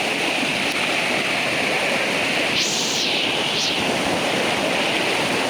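A village river rushes past in a steady, dense wash of flowing water, loud and close throughout, with no voices over it.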